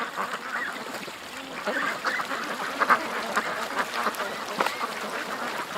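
Geese and ducks honking and quacking outdoors, a dense continuous chorus of overlapping calls from a flock, fairly loud and close, with no clear speech.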